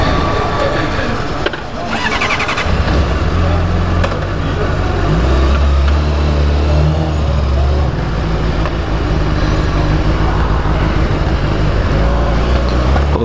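A loud Honda CBR600RR sport motorcycle engine drones and revs steadily throughout, with a low rumbling tone rising and settling as the bike pulls away, voices faintly audible under it.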